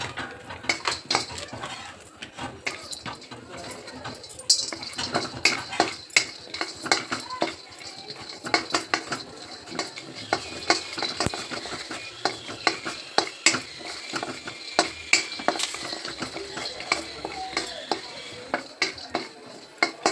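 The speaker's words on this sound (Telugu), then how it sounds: "కొన్ని పిస్తా కూడా ఫ్రై చేసుకోవాలి" Pistachios fry in a pan with a light sizzle beneath frequent metallic clinks and scrapes of a spoon against the pan, a busy irregular clatter close by.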